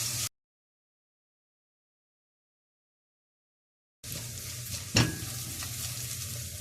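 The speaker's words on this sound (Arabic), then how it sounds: "هقلب البصله لغايه لما البصله تدبل" Onion frying in ghee and corn oil in a pot, stirred with a steady sizzle and one sharp utensil scrape; a long stretch of total silence splits the sound near the start.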